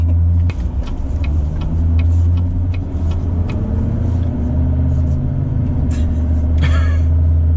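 A 2018 Chevy Silverado 2500 Duramax diesel pickup drives along, its low engine rumble and road noise steady and close from inside the cab, with a few faint clicks and no talking.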